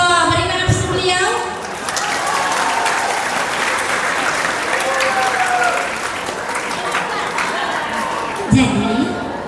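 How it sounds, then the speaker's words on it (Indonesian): Applause from a talk-show audience for an alumnus guest, a dense sustained clapping lasting several seconds, loud and close, with a voice briefly audible at the start and end. "Masya Allah, berikan aplaus beliau"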